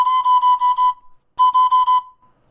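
A high note on a pan flute sounds as a clear, breathy tone in two bursts of short tongued pulses, about six and then five, separated by a brief silence, with nothing else heard.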